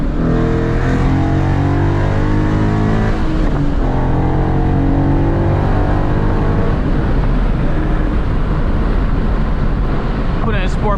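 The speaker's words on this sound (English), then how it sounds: "I'm gonna end it off with me doing some POV driving" A Ford Mustang GT engine drones loud and steady from inside the car while driving, its pitch climbing and dropping through gear changes.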